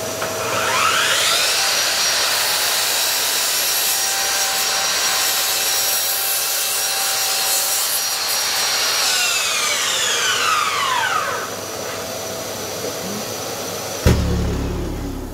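A Bosch GCM 18V-305 GCD cordless mitre saw cuts wood with a vacuum extractor running, its motor whining up and down in pitch as the blade passes through, followed by a clunk as the saw head returns.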